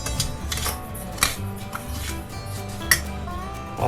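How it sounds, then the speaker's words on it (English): Utensil clinks and scrapes against a bowl as a curing mix is stirred for a 3-pound piece of pork belly, with irregular light taps, a sharper knock near the end, and music playing underneath. "Now I just need to stir this together really well."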